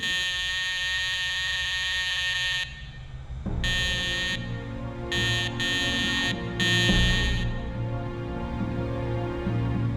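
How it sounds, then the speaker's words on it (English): A patient's bedside call alarm in a care home buzzes loudly with harsh, repeated electronic tones, some sustained and some in short bursts, over a continuous background hum. "They have an alarm next to their bed, and they were using this alarm each 5 or 10 minutes."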